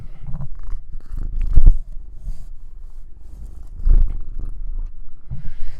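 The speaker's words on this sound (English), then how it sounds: "That's her purring into the microphone." A female cat purrs right up close into the microphone, a low rumbling drone that swells and fades in waves, with soft rustles as it shifts.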